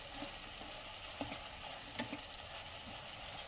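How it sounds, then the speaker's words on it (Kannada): Manare kayi (a vegetable) being stirred as it fries in oil with fresh coconut and coriander leaves, with a steady soft sizzle broken by a few scraping stirs of a spoon in the pan, quiet and without talk. "ಎಲ್ಲವನ್ನು ತಿರುಗಿಸ್ಬೇಕು."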